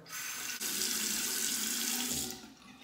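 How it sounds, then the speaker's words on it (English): A bathroom tap runs steadily for a rinse after a shave with Parker double-edge razors, a loud close hiss that starts abruptly and tapers off, with no talking. "A hot water rinse, then cold water."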